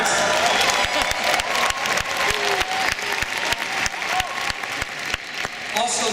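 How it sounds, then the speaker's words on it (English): Commencement ceremony crowd at NJIT applauds the parents, a loud, sustained roar of many hands clapping with some distinct sharp claps up front and a faint cheer within the wash. "Applause for the parents."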